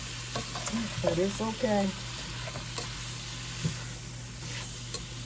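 Onions sautéing in a pan for broccoli and cheese chowder, a steady close sizzle and frying hiss running throughout, with a brief spoken remark partway through.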